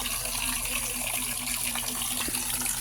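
Water pours steadily from a pump outlet at a water source, a constant rushing, splashing flow with a faint low hum beneath it, close and continuous.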